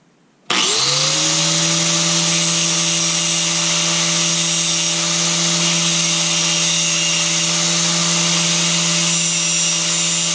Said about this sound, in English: But the head is too big, so I gotta grind that down.